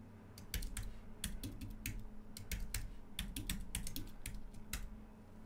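A password is typed on a computer keyboard in quick, irregular bursts of close, crisp key clicks with short pauses between groups.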